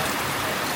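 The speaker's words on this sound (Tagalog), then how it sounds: "Busog kaayo ang ulan dito." Heavy rain pours down in a dense, steady hiss with no breaks, loud and close throughout.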